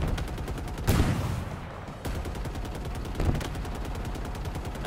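Rapid automatic weapon fire in the shooter game Halo Infinite on Legendary difficulty, a loud sustained burst of evenly spaced shots with a couple of heavier impacts mixed in.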